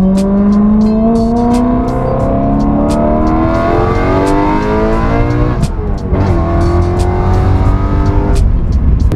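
A BMW E91 M3 wagon converted to the S65 V8 engine drives and revs steadily throughout, engine pitch climbing and dropping through repeated sweeps with sharp rev spikes, loud and close.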